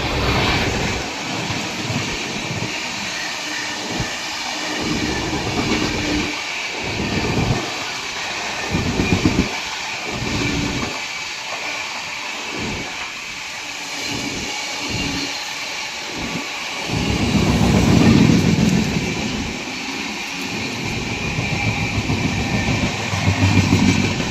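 Shivganga Express train overtaking on a parallel track, a long steady rumble of passing coaches with rhythmic wheel clacks, loud and close throughout, swelling near the end, no talk.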